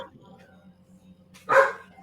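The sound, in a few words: dog barking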